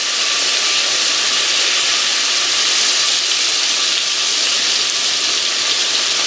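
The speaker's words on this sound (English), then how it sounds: "I'm going to start searing these off in a mixture of butter" Oxtail sears in a mixture of butter and oil for a French oxtail stew, a loud, unbroken, close frying hiss that holds steady throughout with no talking.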